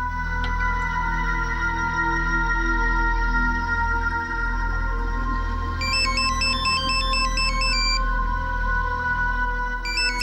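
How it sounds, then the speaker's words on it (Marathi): A landline-style telephone ringtone rings steadily and loudly in a home setting from a Marathi TV serial, a continuous electronic melody with a higher chirping tone joining partway through, with no talking. "किती वाजतोय हा फोन?"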